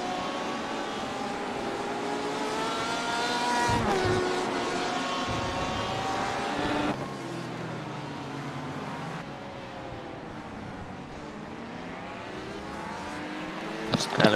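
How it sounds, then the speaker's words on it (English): LMP1 prototype race car engine in iRacing at Circuit of the Americas, several engine notes sweeping up and down through gear changes as cars pass, steady and fairly loud, with commentary running over it. "That's an LMP1 off there."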